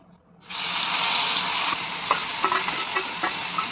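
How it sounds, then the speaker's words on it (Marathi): Grated carrots sautéing in ghee start with a sudden loud sizzle that stays continuous and close. Light stirring clinks run through it, and no one speaks. "गाजर बारीक करून घेतलेले मी ते तुपामध्ये घातलं आणि असं परतून घ्यायचं।"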